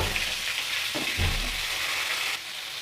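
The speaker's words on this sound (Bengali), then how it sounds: "এই তেলের মধ্যেই আমি কিছুটা ফোড়ন দেব রাঁধুনি আর শুকনো লঙ্কা দিয়ে দেবো কেটে রাখা শশা দিয়ে দেব" Sliced cucumber frying in oil tempered with radhuni and dried chilli, a soft sizzle with a brief stirring clatter partway through and no speech.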